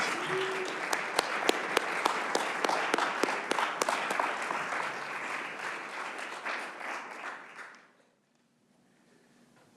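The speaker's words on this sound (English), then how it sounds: "let's go ahead and clap it up for Shannon Ross." An audience at a prison reentry program kickoff event applauds for about eight seconds, with a few sharp claps standing out before the applause fades to near silence.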